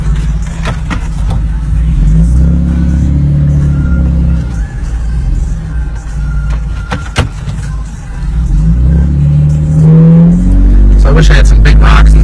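A Jeep fitted with a coilover suspension kit drives off-road and swings through a U-turn, its engine a steady low rumble that swells and eases as it turns, with a voice talking over it.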